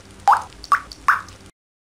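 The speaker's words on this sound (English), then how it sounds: "The faucet is dripping." A dripping faucet lets fall three distinct water drops in slow, even succession, each a clear close plop, followed by silence.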